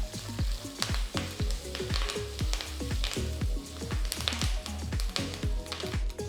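Mustard seeds, hing, green chilli, ginger and curry leaves roast in a pan for Gujarati dal, a steady loud sizzle with regular stirring knocks about twice a second.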